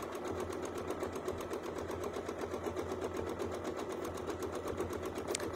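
A sewing machine stitches free-motion quilting with a small stitch, sewing a Baptist Fan figure-eight pattern, its needle hammering in a fast, steady rhythm that runs close and continuous with no talking.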